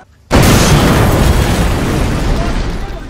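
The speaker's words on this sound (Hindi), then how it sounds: "डबल धमाका हो गया" A Diwali stone bomb firecracker goes off after a brief quiet moment, a sudden, very loud double blast followed by a long, roaring rumble that slowly fades.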